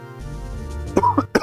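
A gamer chokes mid-commentary during a Legend of Zelda: The Minish Cap playthrough, giving a few sharp close coughs after a low rumbling stretch, with no words spoken.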